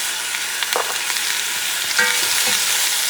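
Tomato sauce with paprika, pepper and coriander sizzles in a pot for Southern-style oxtails, a steady close frying hiss with a few soft stirring scrapes and clinks scattered through, no voices.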